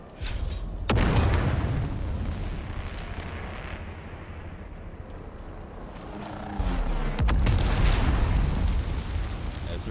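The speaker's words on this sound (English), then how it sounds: "Threw a grenade at me, so I throw a grenade at them." Grenade blasts in the video game Dune: Awakening, a loud broadband boom near the start that rolls on as a long rumbling roar, then a second heavy blast surging in around the middle and holding loud to the end.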